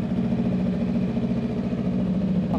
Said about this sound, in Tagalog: Now, check na rin natin tong exhaust nito. Dual exhaust.